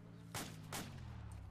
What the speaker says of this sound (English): Yeah, they're shooting us.